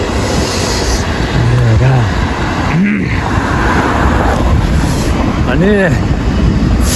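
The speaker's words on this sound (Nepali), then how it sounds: "यो लास्ट ट्रेन होला" A train passes close by with a loud, steady rumble and a few brief rising and falling tonal wails over it, while a voice speaks briefly.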